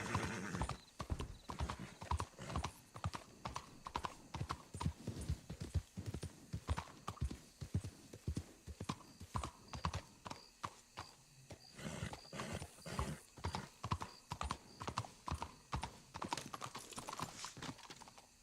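Steady clip-clop of video game horse hooves striking ground in a quick, even rhythm, with faint background ambience and no talking.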